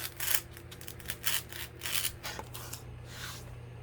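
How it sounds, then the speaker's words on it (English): Knife slicing through craft material for a bee gnome night light, a series of short scraping cuts in quick irregular bursts, close and fairly quiet. "I'm just gonna take a knife and cut it about that much off."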